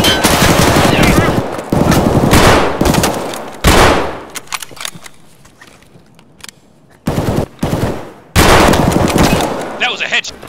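Loud bursts of rapid automatic gunfire in a shooter video game, with heavy sustained volleys and brief lulls between them. Voices may be faintly present beneath the shots.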